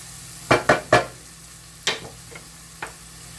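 Beans cooking in a pan: a few sharp stirring scrapes and taps against the pan in quick succession, then scattered softer knocks, close and fairly loud over a low background hum.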